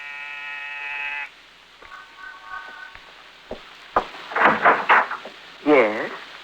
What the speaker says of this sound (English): Pause and press a buzzer.